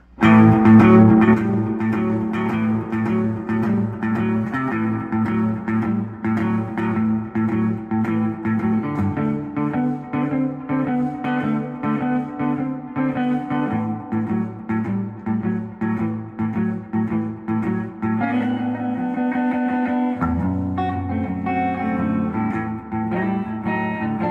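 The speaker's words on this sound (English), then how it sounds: "I just switched over to the Deluxe Reverb tube version. Let's hear how that sounds. Reverb at 4." Electric guitar played through a Fender '65 Deluxe Reverb tube amp with reverb set to 4, a continuous improvised blues passage of sustained chords and single-note lines with a reverb tail, close and full with no talking.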